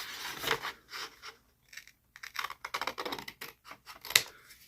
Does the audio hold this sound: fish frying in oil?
no